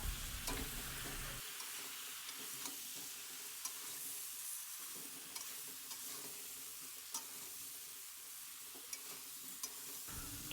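Chopped bottle gourd stir-fried in a pan: a soft, close sizzle carries on steadily while a spatula scrapes and taps the pan at irregular moments.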